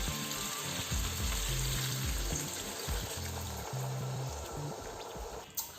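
Lamb stock is poured into a pan of sizzling lamb and spinach curry, giving a steady frying hiss with bubbling, close by with a faint low hum underneath.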